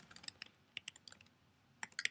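Quiet, close computer keyboard typing as a drawing name is entered, with irregular clusters of crisp key clicks separated by short pauses.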